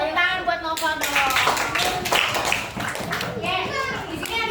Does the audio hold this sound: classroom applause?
yes